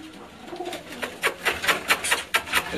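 Pure Aseel pigeons cooing close by, a series of soft repeated coos growing denser toward the end.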